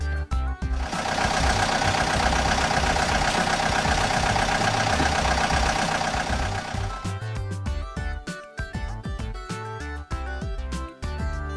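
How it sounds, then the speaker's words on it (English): An excavator engine runs with a loud, steady mechanical drone for several seconds, then breaks into irregular knocking and clanking bursts. "Excavator."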